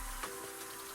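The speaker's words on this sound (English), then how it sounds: "The rain isn't supposed to let up at all tonight." Steady rain falls in the video game Intertwine: Another Life, a constant close hiss of drops with a faint tonal hum underneath and no talking.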